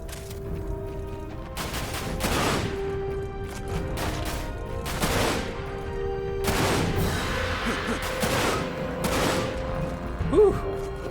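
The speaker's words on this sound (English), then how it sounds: "Who else is shooting me right now?" Enemy gunfire in the Dirge of Cerberus: Final Fantasy VII shooter, with several sharp bursts of shots spaced a few seconds apart over steady game ambience and a low tonal hum.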